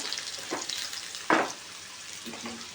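Garlic and green chilies frying in a pan for masala bhindi, a steady faint sizzle broken by a few scrapes of a spoon and one louder clatter near the middle, with no talking.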